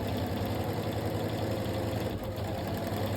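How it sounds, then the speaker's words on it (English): Sewing machine running steadily while stitching fabric a quarter inch from the edge on a Double Maltese project, a continuous close, fairly loud motor hum with a rapid needle rhythm and no talking. "I'm gonna just go 1/4 inch from the edge, just like normal sewing"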